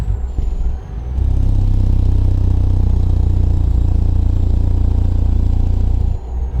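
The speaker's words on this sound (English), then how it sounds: "I honestly have no idea how ZeeMod created these engine brakes" A heavy truck engine brake in American Truck Simulator, modded Detroit 60 Series engine, roars in a deep, steady rumble for several seconds, loud and close, then cuts off abruptly.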